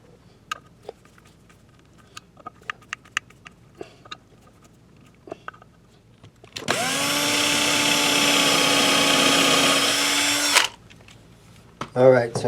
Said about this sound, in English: Alright, so I'm screwing this straight to the body.